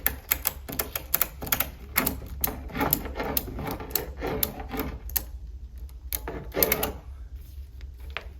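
A ratchet strap being cranked tight around a trunk inside a vehicle, giving quick bursts of close, sharp mechanical clicks with brief pauses between pulls.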